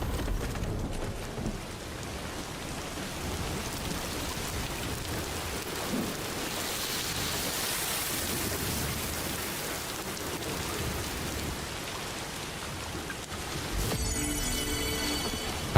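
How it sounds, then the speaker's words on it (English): Timefall rain in the video game Death Stranding 2 falls as a steady, dense patter on surfaces with a low rumbling undertone, continuous and moderately loud, with no speech. "Timefall. Exposure to timefall damages containers and reducing their capacity to absorb impacts."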